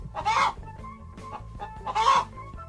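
A cartoon hen in a Hindi comedy story clucks loudly twice, with softer clucks between and a rhythmic background music track underneath.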